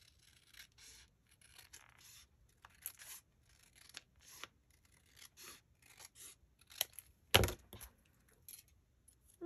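Scissors cutting paper for a handmade shabby pink tearoom journal, a series of faint, short snips and rustles at irregular intervals with quiet pauses between, one louder cut near the end, close by and with no voices.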